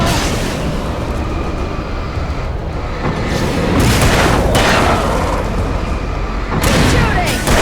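Heavy gunfire and booming blasts roll through a battle in the video game Alan Wake, loud bursts recurring in waves over a constant rumbling din.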